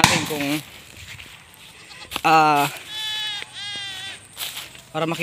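Several fat goats bleat in short wavering cries, close by, interspersed with a person talking in Filipino.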